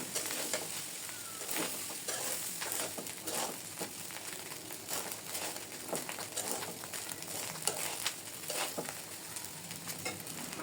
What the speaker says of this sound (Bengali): চুলার পাওয়ার কমিয়ে ভাজতে হবে। নিচে যেন পুড়ে না যায়, বারবার নেড়ে দেখতে হবে।